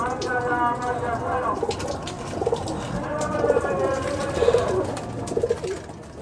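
Several pigeons from a breeder pair coo in repeated rhythmic bursts near the listener, growing fuller around the middle and later seconds, while a voice talks underneath.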